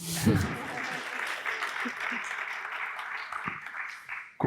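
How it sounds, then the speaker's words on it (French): Audience clapping fills a round-table session on professional independence in pharmacy careers, a steady moderate patter of many hands lasting several seconds, with faint voices over it. "Et applaudir aussi, hein, si vous..."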